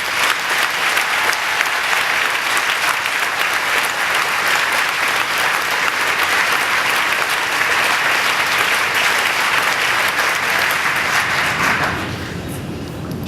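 Sustained, dense clapping from a large audience at a charity gala, loud and even for about twelve seconds before tapering off into a quieter room.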